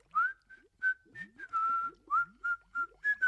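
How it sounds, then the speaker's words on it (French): A person whistles a bright, melodic tune in short phrases, about ten separate notes and glides with brief gaps between them, fairly close and clear with no talking. "comme quand j'ai appris à siffler"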